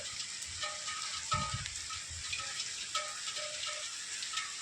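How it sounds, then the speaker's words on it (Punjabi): Moderate rain falls on farmland in Mansa district, Punjab, with an even, steady hiss, broken by a brief low thump and soft intermittent tones in the background. "ਕਾਫੀ ਚੰਗਾ ਦਰਮਿਆਨਾ ਮੀਂਹ ਆ ਵੀਰੋ ਤੇ ਦਾ ਮੀਂਹ"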